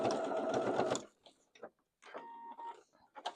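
A sewing machine stitches the fabric of a curved zipper pouch, a loud rapid mechanical whirr lasting about a second, followed by short taps and a brief second run of stitching.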